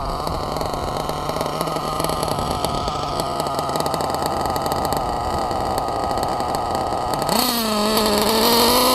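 Nova Rex .28 nitro engine in a Losi 8ight T RC truck idles steadily with a high buzzing drone, running rich, then its pitch climbs sharply near the end as the throttle opens.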